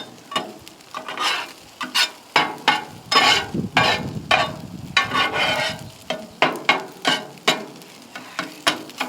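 Egg fried rice with pork belly being stir-fried on a Ninja FlexFlame grill: loud sizzling under repeated scraping and tossing strokes of a spatula, coming in quick irregular bursts and then a steadier rhythm.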